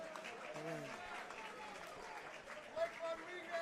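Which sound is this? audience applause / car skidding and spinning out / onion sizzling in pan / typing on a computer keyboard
audience applause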